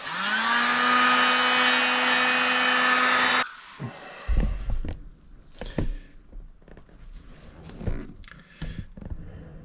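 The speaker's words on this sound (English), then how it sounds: "Careful with the heat gun." A heat gun blows hot air in a loud, steady whine for a few seconds while working on a widebody Corvette, then cuts off, leaving faint handling noises and thumps.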